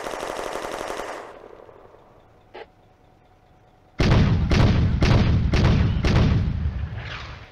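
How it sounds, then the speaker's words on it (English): Sd.Kfz. 222 armoured car opening fire on Soviet soldiers in a village during a World War II video game, a loud burst of repeated machine-gun rounds after a quiet lull, with a brief earlier bang. "The Sonderkraftfahrzeug 222 starts firing at Soviet soldiers in the village of Kulikova."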